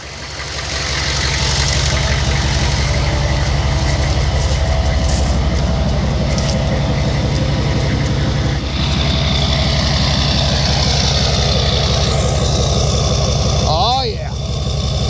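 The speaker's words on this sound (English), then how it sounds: "You got exhaust leak or you got headers on it? That's a manly sound." A straight-piped engine in a 1973 Mercedes-Benz R107 450SL project car idles with a loud, steady, deep rumble that fills the whole stretch and dips briefly near the end.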